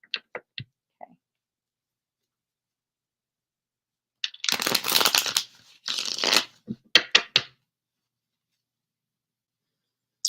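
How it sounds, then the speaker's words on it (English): Reading cards shuffled by hand close up, with a couple of dense riffling bursts bracketed by light snaps and taps of the cards in a quiet room. "I'm gonna shuffle these back up"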